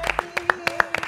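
A studio audience claps for guests arriving on a talk show, with quick uneven claps close by and speech running over them.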